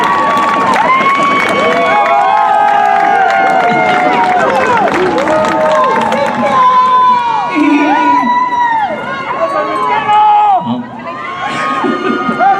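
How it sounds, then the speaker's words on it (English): A middle school graduation crowd cheers, whoops and claps for the graduating students, a loud continuous roar of voices with children shouting and some individual calls standing out, easing briefly near the end before swelling again. "Students, give them a big round of applause."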